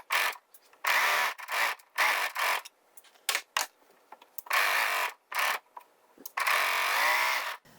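A domestic sewing machine runs in short, steady bursts while stitching the shoulder seam of a knit Dolman top, stopping and starting repeatedly with brief pauses between runs; close and clear, with no talking.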